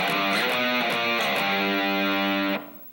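Distorted electric guitar plays a heavy metal octave line, with a quick picked opening and then sustained, saturated octave notes that cut off abruptly near the end.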